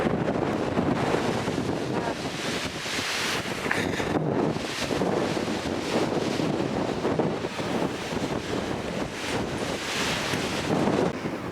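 On a cold, snowy mountaintop in the Roan and Beech Mountain area, strong gusts roar continuously and loudly across the microphone for about eleven seconds, with no voices.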